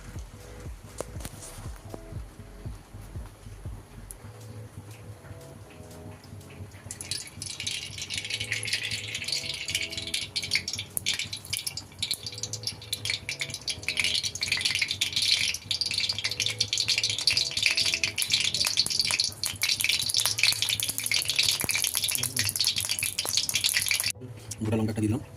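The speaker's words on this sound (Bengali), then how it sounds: "প্রথমে আমি সরষের তেল দিয়ে দিচ্ছি" Mustard oil heats in a pan and breaks into a steady, rising sizzle after a few quiet seconds, with a light metallic rattle underneath. The sizzle holds fairly loud until a sudden cut near the end.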